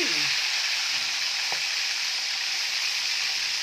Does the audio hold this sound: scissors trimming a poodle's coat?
no